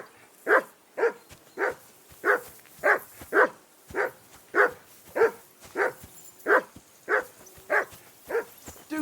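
Dog barking in Kingdom Come Deliverance II, a mutt at a riverbank camp, giving a steady run of about sixteen loud, evenly spaced barks close by, with no other sound between them.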